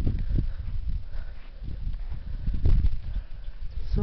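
A horse pulling plows walks at a park in Minas, Uruguay, its hooves clip-clopping in an irregular steady rhythm, close and fairly loud, with no talking.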